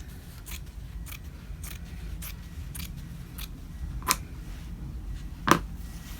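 Scissors cut fabric for a Halloween mini art wall hanging: a series of crisp snips at a steady, unhurried pace, close and quiet over a low background hum, two sharper snips near the end.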